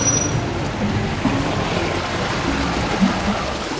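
Mountain runoff water rushes steadily in a street channel in Ollantaytambo, Peru, a continuous close broadband wash with no talk.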